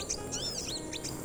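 A trapped sogon bird in a forest makes short, bright chirps and warbles, close and moderately loud, several rising and falling calls over steady background noise with no talk.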